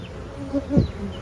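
Honey bees buzz and drone close by at a hive in a short burst, a low hum rising briefly as one passes near.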